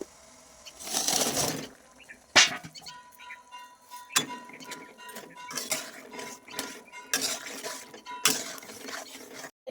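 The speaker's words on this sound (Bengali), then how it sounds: "আমার চিনি রস ফুটে গেছে, এবার আমি" Fried milk cream is added to boiling sugar syrup in a cooking pot, with sharp metallic clinks and scrapes of utensils against the pot and dishes in irregular bursts close up.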